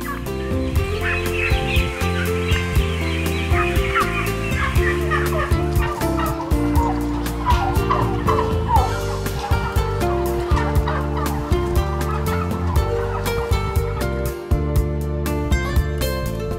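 A large flock of fattening turkeys in a barn on a Bavarian turkey farm gobbles continuously, many birds calling over one another in a dense, loud chorus throughout.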